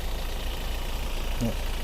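A used 2018 Toyota Revo pickup with a 2.4-litre diesel and manual gearbox idles with a steady, low, quiet rumble that stays even throughout, with a faint murmur of a voice in the background.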